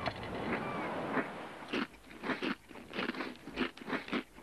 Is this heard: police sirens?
no